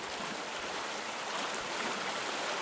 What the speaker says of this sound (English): And there's a convenient waterfall like right here.